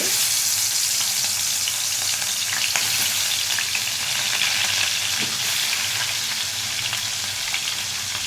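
Oil heated on a stove for frying fish, a loud, steady crackling sizzle that fills the whole stretch with no pause and no voices.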